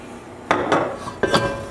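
A metal pan holding salmon is set into an oven, giving two sharp clanks of metal on metal with a short rattle between, close and fairly quiet against a soft background hiss.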